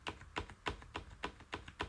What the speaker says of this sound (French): c'est un clavier qui fait pas énormément de bruit.